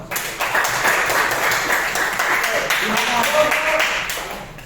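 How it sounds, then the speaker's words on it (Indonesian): A classroom of students claps for a group after its presentation, a loud, steady patter of many hands lasting several seconds, with voices mixed in beneath it. "kita tepuk tangan dulu buat kelompok"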